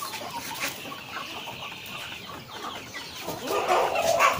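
Breeding hens cluck in their coops on a small poultry farm, several birds calling close by, the clucking growing busier and louder toward the end.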